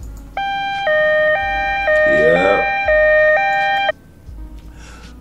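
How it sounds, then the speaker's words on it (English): An alarm siren sound effect blares in loud, sustained electronic tones that step up and down between pitches for several seconds before cutting off abruptly, while someone speaks briefly over it. "I must let the alarm go"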